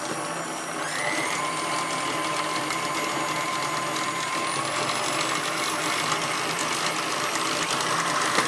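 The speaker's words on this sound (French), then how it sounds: "dans mon robot j'ai mis ma crème et mon sucre et j'ai juste à le faire tourner" A food processor whips cream and sugar for chantilly, giving a loud, steady motor whir with a faint mechanical rattle that runs without a break throughout.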